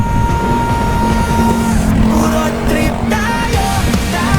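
Car engines hum steadily in dense road traffic, heard up close from a bicycle riding alongside four-wheel vehicles near a bike lane; a continuous loud drone with shifting tones as vehicles pass.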